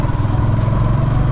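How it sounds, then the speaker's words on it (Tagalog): A Yamaha Sniper 155R motorcycle engine runs close up, a loud, steady low rumble with a rapid even pulse and light mechanical clatter, heard alone for just over a second. "naririnig nyo naman siguro yung tunog ng makina natin"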